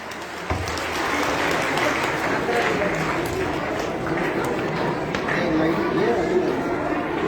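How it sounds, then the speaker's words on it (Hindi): An audience at a school's annual function claps steadily, with voices and chatter mixed in under the applause. "एक बार जोरदार तालियां बजाइए प्लीज"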